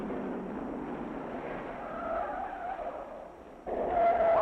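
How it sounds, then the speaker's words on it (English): A 1963 NASCAR stock car slides sideways through turn 6 at Riverside International Raceway with a sustained tire skid over engine roar, heard at moderate distance and rising slightly near the end. "Bill Weatherly goes through turn 6 sideways"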